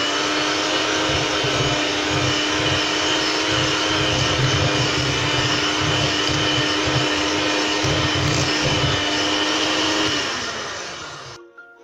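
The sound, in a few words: electric mixer creaming butter and sugar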